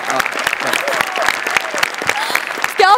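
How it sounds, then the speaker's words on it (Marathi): Studio audience applause for Nikhil Bane at a Marathi comedy show, sharp rhythmic clapping from a crowd with a host's voice speaking over it, fairly loud and close throughout. "त्याच्या ॲटिट्यूडसाठी जोरदार टाळ्या"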